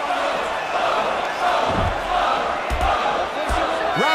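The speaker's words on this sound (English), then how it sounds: "The crowd showing their support for John Bones Jones." Arena crowd in the UFC Undisputed 3 video game cheering for fighter Jon Jones, a dense, steady roar of many voices, with a few heavier thuds now and then.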